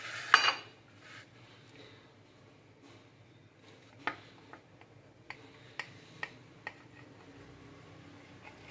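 A knife cuts through a soft biscuit cake: a brief rustling scrape opens, then a series of light, sharp taps of the blade against the plate at short, uneven intervals.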